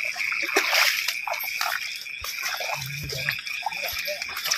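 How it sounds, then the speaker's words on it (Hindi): Heavy rainwater splashing and running across the ground in a downpour, a continuous close wash of splatter and slosh with uneven surges, while someone speaks over it. "हालत हो रही है यार बारिश की वजह से, देखो व्यू करके देखो भैया कैमरा पे देखो, पानी पानी हो रहा है,"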